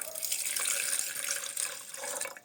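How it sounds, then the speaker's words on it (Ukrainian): Solder-stripping solution poured over crushed ceramic microchips, a soft continuous liquid splash and trickle, fairly quiet and steady throughout, with no voices. "приготував розчинника припою 125 мг та й заливаємо"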